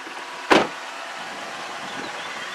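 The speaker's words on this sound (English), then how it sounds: "All of the windows are fully automatic down and up, so we'll roll down the driver's one" A single short whirring burst near the start as the driver's electric power window on a 2019 Toyota RAV4 LE begins rolling down, then settles into a quiet, steady background hiss with no talking.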